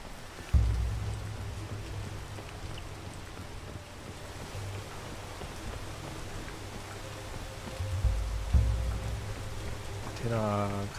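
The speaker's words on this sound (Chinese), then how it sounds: "已经下雨了。" Rain in the climbing game PEAK hisses as a steady, even wash of falling water beneath low game ambience and soft music tones, with a few brief louder bumps.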